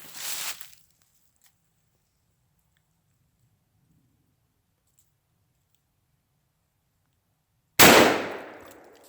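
Gunshots are fired at a padlock: two loud, sharp blasts with decaying echoes, one at the start and another about seven seconds later, with near silence between them.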